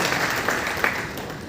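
A seated audience applauding at an awards gathering, a steady, dense wash of clapping from many hands that stays loud and even throughout.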